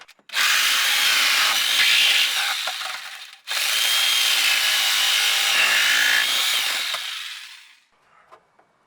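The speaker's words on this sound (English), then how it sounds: "we can cut this cross member out" Power tool cutting out a car cross member during rust repair on a Volvo 122, two loud sustained grinding-cutting runs split by a brief pause, ending in quieter taps.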